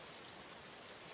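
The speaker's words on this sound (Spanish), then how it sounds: "Joder, oye, como llueve, coño." Rain falls in the GTA Trilogy video game as a dense, steady hiss of rain that stays even and unbroken throughout.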